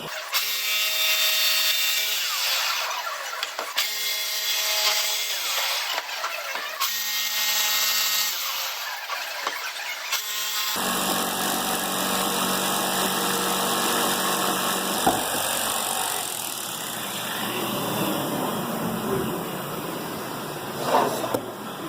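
A jigsaw cuts a sink opening in a clamped countertop. A loud, close motor buzz runs in bursts with short pauses, then turns into a steady, harsher cutting roar.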